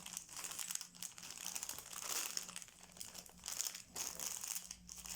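Close, crisp crinkling and crumpling of a small wrapped Christmas gift package being opened by hand, with rustling bursts and brief tearing over about five seconds and no talk.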